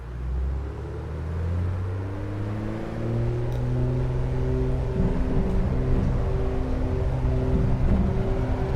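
A Piper Aerostar 600 twin-engine aircraft in a flight simulator runs both engines up to takeoff power, a deep steady rumble with layered tones climbing in pitch as the run builds, loud and continuous with no voices.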